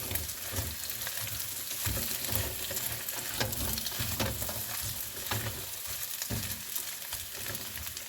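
Red potatoes, onions and mild sausage fry in a pan with a steady, dense sizzle and occasional stirring scrapes, heard up close without any talking.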